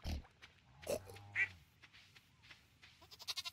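Farm pigs in Stardew Valley give several short, faint oinks and grunts, scattered over a quiet game background with no talking.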